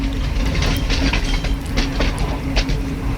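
A passenger train runs along the line near a railway station, heard from the rear: a loud, steady rumble with rhythmic clickety-clack wheel beats and a faint squealing tone.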